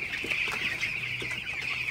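A steady, dense chorus of high peeping from many broiler chicks, about fifteen days old, fills the space at night, continuous and close, with no talking.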